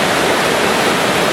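A waterfall pours in a loud, steady, close rush over a Foursevens Preon 2 flashlight held in the falling water, with no other sounds.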